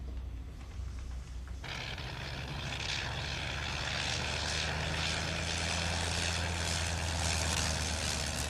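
A propeller airplane running low on fuel and coming in to land, its engine droning in a continuous loud roar that swells in abruptly and holds steady close by, without voices.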